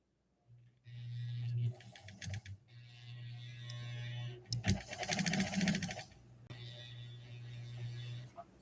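A Singer 99K three-quarter-size sewing machine stitching in several bursts, a rapid mechanical clatter with a low motor hum, stopping and restarting, close by with brief talk in one gap.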